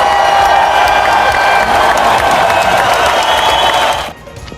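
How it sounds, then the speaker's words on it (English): A school assembly crowd claps and cheers loudly for about four seconds, then the applause cuts off abruptly. "we're going to give Otto a really big Newton round of applause"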